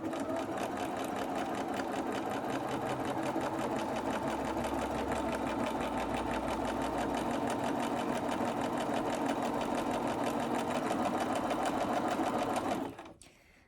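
A sewing machine stitches a fabric face mask in one steady, rapid, even run of needle strokes lasting about thirteen seconds before it abruptly stops, with no voices over it.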